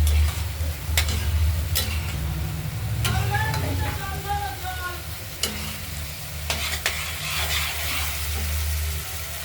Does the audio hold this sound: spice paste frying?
yes